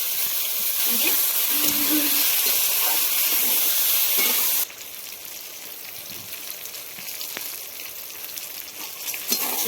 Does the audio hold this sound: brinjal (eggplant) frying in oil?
yes